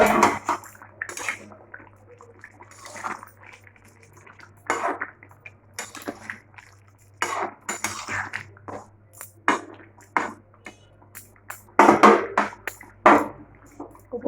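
Paneer pieces are tipped into a pot of boiled potatoes, with several clattering metal-on-pot knocks and scrapes in irregular bursts separated by quiet pauses, close and fairly clear.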